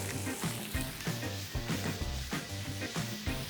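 Sausage with black pepper sizzles in a pan as the base for paccheri with sausage and peppers, a steady frying hiss running under background music.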